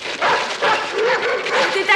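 A dog barks and yelps in quick, close bursts during a scene from a 1978 French adventure TV series, with agitated sounds coming in a rapid series.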